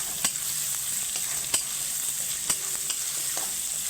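Chopped onions go into a pan of half-fried, sizzling garlic, with a steady frying hiss and a few sharp stirring clacks, close and fairly quiet, no voices.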